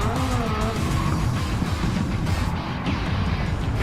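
A race car in a racing video game roars at steady high revs with tire squeal and skidding as it slides into the grass, loud and continuous.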